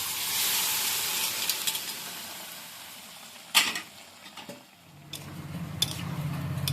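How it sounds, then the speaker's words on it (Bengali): Boiled soybean dal poured into a hot pan of spiced masala, a brief splashy burst and sputter rising over steady sizzling, followed by quieter frying. "সোয়াবিন ডালটাও সিদ্ধ হয়ে গেছে এবার এইটা এর মধ্যে ঢেলে দিচ্ছি"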